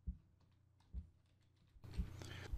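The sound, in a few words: typing text on a computer keyboard in Photoshop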